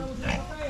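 A pig grunts and oinks at close range in a farm pen where a pregnant sow is kept, with people talking over the sound throughout.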